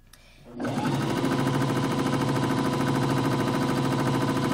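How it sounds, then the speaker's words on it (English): A sewing machine stitches binding down over a serged edge on stretch fabric, starting after a short quiet lead-in and then running loud, steady and continuous with a rapid, even mechanical rhythm. "as you're sewing, you want to flip that binding around your serging and stitch it down in place"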